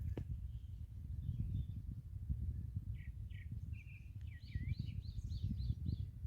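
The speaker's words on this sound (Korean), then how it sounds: "굉장히 다양한 새소리가 들려요" Several birds chirp and trill faintly in the distance over a low outdoor rumble at Daecheong Lake in the morning, with a quick run of repeated notes toward the end.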